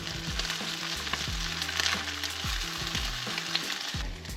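Crab cakes sear in a hot pan with a strong, steady sizzle, crackling close by and punctuated by light clatter of a spatula, with no speech.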